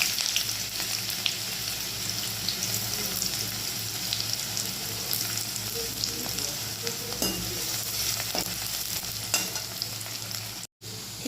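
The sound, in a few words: frying dried chilli and chopped onion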